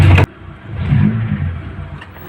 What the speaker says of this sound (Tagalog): narinig nyo na nagtaguktok ang andar ng makina